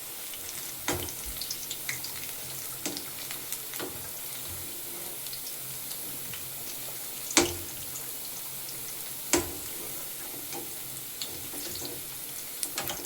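Green chili bajji, simply mixed battered chilies, frying in hot oil with a steady broad crackling hiss, broken by a few sharper clinks and splashes near the pan, with no voices.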